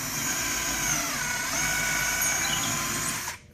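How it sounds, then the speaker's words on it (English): A small 1/8 inch bit drills a hole through a metal hanger into drywall, giving a steady high whine from the drill that runs unbroken for a few seconds before stopping abruptly. "drill your second hole with the small bit"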